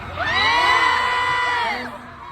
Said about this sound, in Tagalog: grabe talaga yung crowd. Sobrang wild.